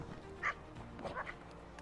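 Hunting dogs on a snowy winter wild boar hunt give a few short yips and barks at middle distance, brief sharp calls over a quiet outdoor background.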